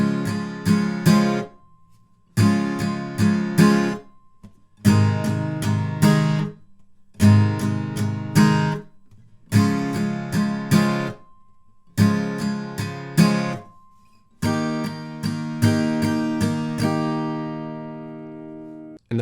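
Bridge chords from a song strummed on guitar, seven distinct strummed bursts separated by brief pauses, the last chord left ringing out to fade, played alone and close.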